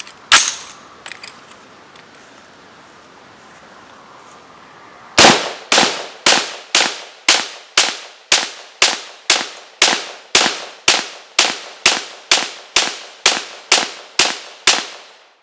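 A budget AR-15 rifle fires a 20-round magazine outdoors, with sharp, loud shots at a steady rhythm of about three per second after a quiet pause with faint handling clicks.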